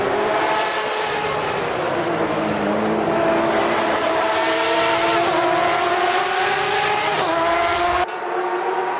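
Porsche race cars in a video game racing at Road America, loud sustained engine whine rising and falling in pitch as the cars run close together, continuous with no voices.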